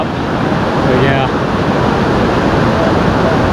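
Water rushes steadily through the Sandy Creek crossing on the Railroad Grade trail to Easton Glacier on Mount Baker, Washington, a loud, continuous broadband wash with wind buffeting the microphone and no clear voices.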